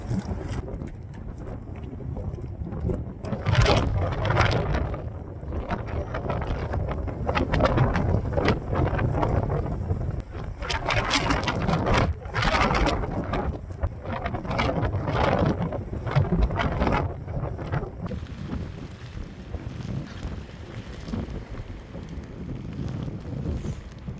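Strong wind gusts buffet the microphone in Torres del Paine, Patagonia, during a motorcycle camping trip, a loud, rumbling roar that surges and eases in waves for the whole stretch, easing somewhat near the end.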